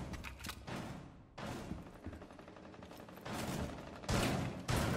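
Rapid gunfire from a Rainbow Six match, repeated bursts of shots and thuds with several loud volleys near the end, continuous and fairly close.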